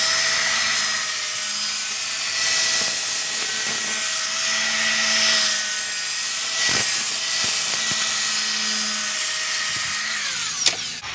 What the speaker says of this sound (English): We'll see if we can deburr this guy a little bit.